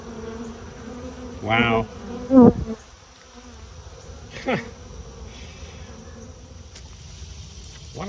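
Honey bees buzz around an open hive while frames are checked, with several close passes drifting by over a quiet background. One short exclaimed word is spoken.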